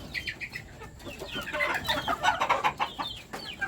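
Sweater Claret gamefowl cluck close by in a quick, choppy run of calls that grows busier toward the middle, with faint talk in the background.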